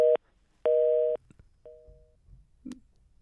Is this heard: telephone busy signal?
yes